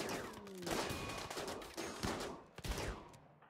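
Bursts of gunfire crack in RimWorld, a fast cluster of overlapping shots fading toward the end, moderately quiet with no speech.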